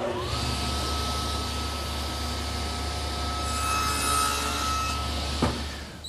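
A handsaw cuts shoulder cuts into a 2x3 bottom rail for a 2x4 garden bench, guided by a block and T-square, giving a steady, continuous rasping close by with a brief louder scrape near the end.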